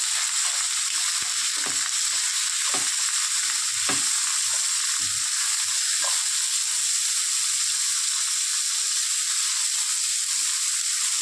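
Spices sizzling in a pan with turmeric and salt for Bengali drumstick curry: a steady, loud broadband hiss of hot oil throughout, with occasional soft stirring knocks, no voices.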